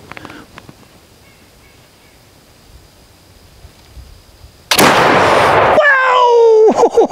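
A Pedersoli Kentucky flintlock rifle fired at a spoon target outdoors, a sudden loud blast with a short rumbling tail after quiet moments, followed by excited shouting.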